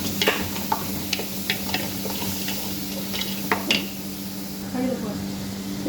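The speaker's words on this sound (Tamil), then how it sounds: "வெங்காயம் ஒரு 4 வெங்காயம் புதுசாக வெட்டி இதில் போட்டுக்கிறேன்." Four freshly chopped onions frying in a pot with bay leaf and dried lemon, giving a steady sizzle with intermittent clinks and scrapes of stirring, and a voice talking faintly in the background.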